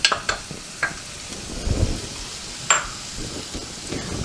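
Green capsicum sautés on medium flame in a pan, a soft close sizzle punctuated by a few sharp scrapes and clinks of stirring, with no speech.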